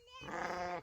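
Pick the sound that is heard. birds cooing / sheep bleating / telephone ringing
sheep bleating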